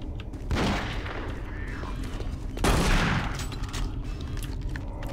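Two heavy bursts of gunfire from Doom 3, the first near 0.7 s and a louder one near 2.7 s, each rolling off over steady game ambience with no talk.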